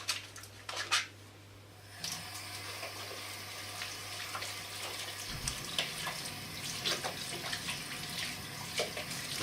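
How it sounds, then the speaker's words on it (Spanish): Water runs steadily from a kitchen tap while hands are washed with soap at the sink, a continuous splashing gush with a low hum under it, close and fairly loud. "y las lavamos bien con jabón"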